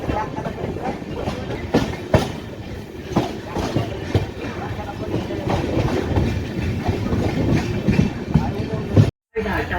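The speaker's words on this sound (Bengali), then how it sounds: "আমাদের ট্রেনটা এখন করাতে স্টেশনে ডিপার্চার হয়ে গেছে" The Amrit Bharat Express pulls out of a station, heard from on board as a continuous rumble with clickety-clack wheel beats, occasional voices and a brief dropout near the end.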